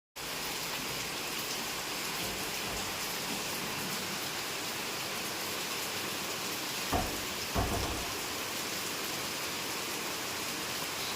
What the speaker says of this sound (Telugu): వర్షం పడుతుంది తల్లి చింకులు పడుతున్నాయి